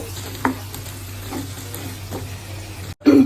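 Potatoes going into hot oil in a home kitchen pan, with a steady frying hiss, a few soft clinks and stirs, then a louder sizzling rush near the end.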